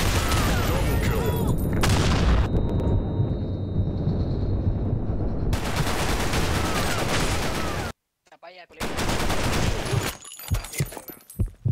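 Heavy, dense bursts of gunfire and a booming grenade blast in Blackshot fill the scene loudly, broken by a sudden near-silent gap before more crackling shots return.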